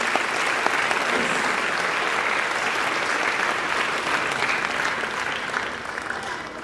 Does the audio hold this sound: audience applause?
yes